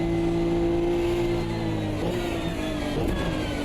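A Nissan GT3 race car in a racing video game holds full throttle, its engine a loud, steady high-revving drone that rises slightly in pitch, with no talk over it.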